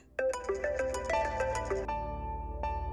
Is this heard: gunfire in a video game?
no